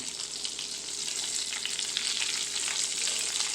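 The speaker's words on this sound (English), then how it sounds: "In order to fry your chicken breast, if it's 2, you're going to want about maybe 3 tablespoons." Chicken breast fries in a few tablespoons of oil in a pan for chicken parmesan, a steady, close, dense sizzle and crackle that holds throughout without talk.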